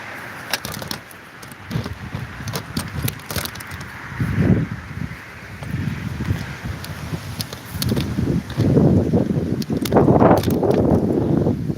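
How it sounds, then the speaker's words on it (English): Wind gusting outdoors, rumbling into the microphone as a steady low roar that swells louder in the second half, with occasional rustling and knocks. "This way it's kind of windy out here."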